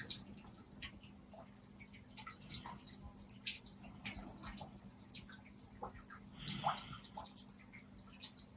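Gentle water drips softly and irregularly against a low steady hum, quiet and close, with scattered small plinks and a slightly louder splash partway through.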